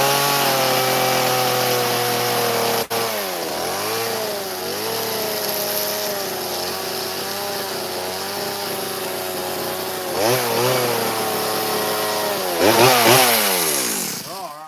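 Chainsaw carving an elk sculpture out of wood outdoors in a winter snowstorm: a loud, close chainsaw whines throughout, its engine pitch swooping up and down as it revs and cuts, surging harder near the end.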